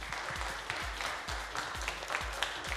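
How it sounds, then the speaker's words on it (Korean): An esports audience at a Dota 2 league match applauds in steady, dense clapping that fills the room and holds at an even level throughout. "여러분, 11연승에 성공한 MVP 피닉스 선수들에게 다시 한번 큰 박수 부탁드립니다."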